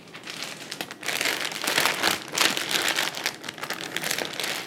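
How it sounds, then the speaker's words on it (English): A plastic bag crinkles and rustles close up as pork loin is packed away for the fridge, a loud, continuous crackling that surges in bursts with no talk. "The other half I'm gonna store in a plastic bag, put it in my fridge"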